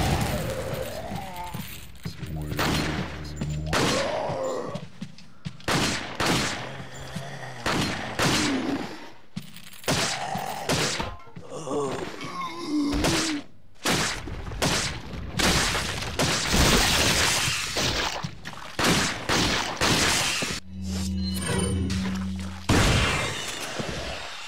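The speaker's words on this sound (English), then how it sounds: "Shoot this lamp here." Gunshots fired at a lamp in Resident Evil 4, a long run of sharp, loud shots in irregular bursts, mixed with crashing, shattering glass and intermittent game noise.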